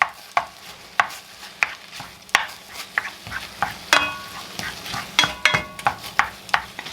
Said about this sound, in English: Let's break this hamburger meat up. Start it cooking.